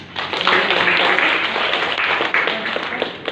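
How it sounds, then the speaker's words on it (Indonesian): A classroom group gives sustained clapping, a thick wash of hands that stays loud and even for several seconds, with faint voices mixed underneath. "Ya, beri tepuk tangan."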